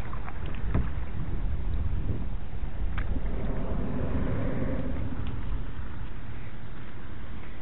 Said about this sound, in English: And we're going kayaking.